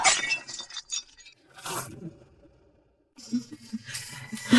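A porcelain plate shatters during a heated domestic drama scene, with sharp, bright crashing bursts and clinking fragments separated by a short quiet gap, loud and close.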